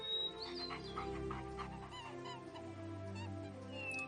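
Chickens and geese in the Animal Rescuer video game cluck and honk in a busy barnyard mix over a steady background music bed, several birds calling in quick overlapping bursts throughout.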